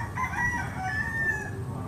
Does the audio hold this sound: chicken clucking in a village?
yes